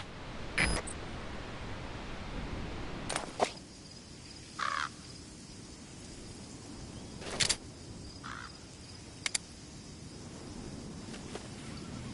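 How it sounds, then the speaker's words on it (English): Ravens cawing in the game Metal Gear Solid V, several separate harsh caws spaced seconds apart over a steady outdoor wind and insect ambience. "So this is Raven territory."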